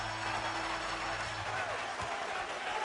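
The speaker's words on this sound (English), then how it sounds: "This Garden crowd on its feet is delirious right now" A basketball crowd at Madison Square Garden roars in a steady, broad wash of cheering, with a commentator's voice carrying faintly over the arena noise.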